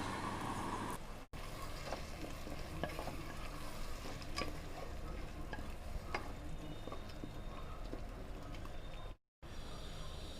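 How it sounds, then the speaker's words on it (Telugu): A vegetable mix for restaurant-style dum biryani sizzles steadily in a pot while being stirred, with a soft continuous fry and small scraping clinks, fairly quiet throughout. "ఇప్పుడు ఈ వెజిటబుల్ మిక్స్ని వేసుకుందాం."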